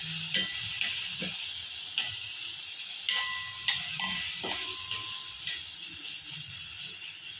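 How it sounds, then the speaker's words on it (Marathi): Chili, ginger and garlic paste frying with curry leaves gives a soft, bright sizzle and hiss, with regular scraping and tapping of a spoon stirring the pan. "आता त्यात मिरची, अद्रक आणि लसणची पेस्ट आपल्याला टाकायची आहे."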